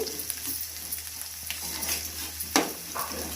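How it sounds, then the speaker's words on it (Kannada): Chillies, green chillies and curry leaves sizzle steadily in hot oil in a pan, a constant close frying hiss with occasional stirring scrapes and a sharp utensil knock near the end. "ಮೆಣಸಿನ್ಕಾಯಿ ಹಸಿಮೆಣಸಿನ್ಕಾಯಿ ಹಾಕಿ ಎಲ್ಲ ಫ್ರೈ ಮಾಡೋಣ"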